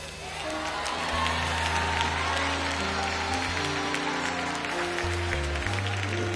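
Applause and scattered cheers from a congregation at a believers' convention, sustained and fairly loud over a low sustained organ or keyboard tone.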